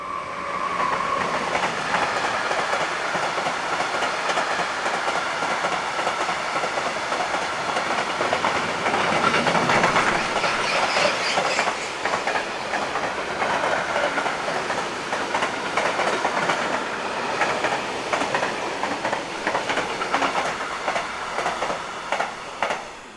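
A class 193 electric locomotive hauls a mixed freight train through Hannover-Linden station, a loud continuous rumble with rhythmic clickety-clack of wagon wheels on rail joints and occasional faint wheel squeal, passing close and steady throughout.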